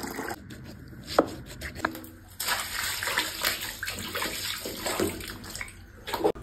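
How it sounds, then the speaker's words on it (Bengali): Feet being washed in a basin of warm soapy salt water, with close splashing, sloshing and rubbing sounds in irregular bursts, fairly quiet and without talk. "তো পাটাকে এখন একটু ধুয়ে দেবো।"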